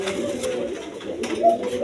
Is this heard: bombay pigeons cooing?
yes